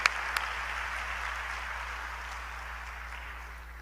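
Applause from a graduation ceremony audience, a broad steady wash of many hands clapping that starts at full strength and slowly thins over a few seconds, no voices on top.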